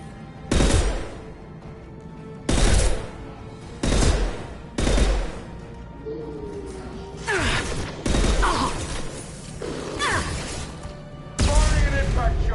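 Heavy weapon blasts from Mass Effect 2 combat, several loud broadband bursts spaced a second or two apart over steady battle noise, with a voice talking between them.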